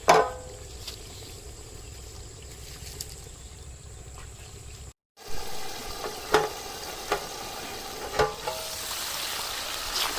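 Finely chopped ginger sizzles steadily in hot oil for a village-style chicken karahi, a close, continuous frying hiss broken by a short gap and by scattered pops and stirring clatters.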